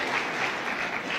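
A crowd at a joyful church gathering claps steadily, a continuous dense patter of many hands at moderate loudness with no voices standing out.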